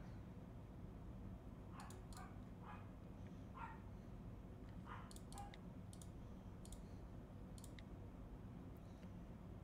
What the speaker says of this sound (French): Chien qui aboie tout le temps.